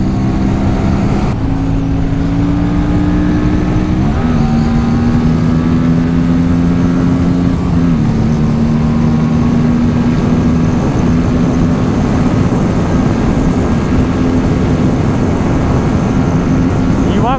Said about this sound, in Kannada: ಇಂಜಿನ್ ವಾರ್ಮ್ ಅಪ್ ಆಗಿದೆಯಲ್ಲ, ಖುಷಿ ಆಗುತ್ತೆ.